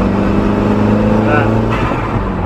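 A VW T4 van with a 1.8T engine, freshly remapped, runs close by with a steady low hum at a constant pitch and a slight change in tone partway through.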